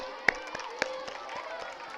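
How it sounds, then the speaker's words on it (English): Scattered audience clapping for student performances, a handful of sharp separate claps with a low crowd murmur underneath, fairly quiet and thin rather than full applause. "let's give them all a big round of applause"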